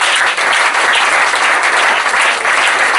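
Audience applause for a pastor at a French-speaking church gathering, loud and steady clapping filling the room throughout without a break.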